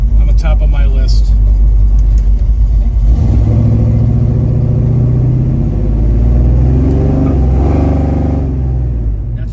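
A 1970 Chevrolet Chevelle V8 pulls away at quarter throttle on a road in traffic. A loud, deep exhaust rumble rises in pitch as the car accelerates, heard from close by inside the cabin.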